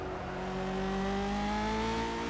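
A Lotus 49 race car engine in the Project Cars racing game drones steadily and loudly, pitch slowly rising as it pulls through the gear, with no talk over it.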